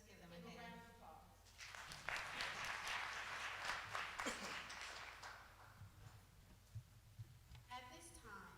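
Audience applause at a Delta Sigma Theta candidates forum, a burst of many hands clapping that swells after a spoken line, holds for a few seconds and then fades as talking resumes, heard from a distance.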